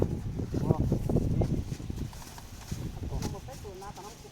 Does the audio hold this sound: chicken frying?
no